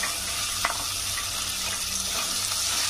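Water splashes into a pan of frying spice paste for shahi paneer and sets off a steady, loud sizzle and bubbling close up, with no voices.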